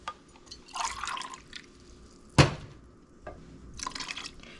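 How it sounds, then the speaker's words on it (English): Water sloshes and splashes as a tomato paste can is rinsed and the water is poured into a pot of tomato soup, with a sharp clank of the metal can in the middle and short bursts of pouring either side. "one more can, we'll get this thing cleaned out and I can just dump the rest of the water"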